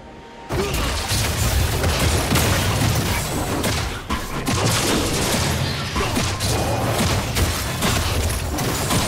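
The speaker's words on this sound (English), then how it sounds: "Blue team's turret has been destroyed" A turret crumbling in a League of Legends match, heard as a dense, sustained barrage of booms and crashing impacts that runs loud and continuous for several seconds after a brief quiet start.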